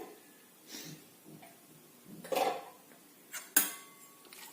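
A lid comes off a pot of brinjal curry with a few soft metallic clinks and one sharp clatter near the end, quiet and close, separated by brief pauses.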